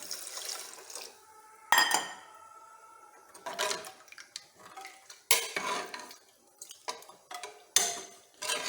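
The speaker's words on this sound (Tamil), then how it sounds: "1 கப்பு தண்ணி விட்டுக்கிறேன் நான்." Water is poured into a pot for drumstick leaf soup in several bursts, splashing and gurgling between quiet pauses, with occasional clinks of metal and glass.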